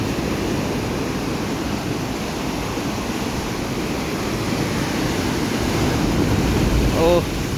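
Ocean waves crashing on the shore: a loud, continuous surf roar with wind rushing across the microphone, swelling slightly toward the end, and a brief voice near the close.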